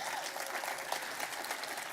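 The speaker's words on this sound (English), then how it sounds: "Let's give her a round of applause." Audience applause fills a business sustainability summit in Los Angeles, a steady dense clapping that holds evenly for a couple of seconds.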